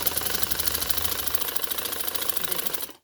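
A sewing machine stitches pink trouser fabric with a fast, steady mechanical chatter, close and continuous for about three seconds before stopping abruptly.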